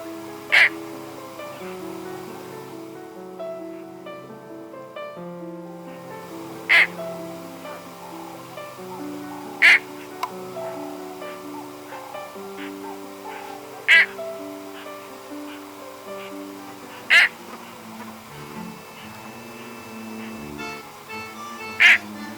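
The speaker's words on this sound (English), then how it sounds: "The most colorful bird along the river with the perhaps ugliest call." A colorful bird along the Khwai River gives harsh, grating calls at regular intervals of a few seconds, repeated six times over a steady background of other bird and insect sounds, moderately near.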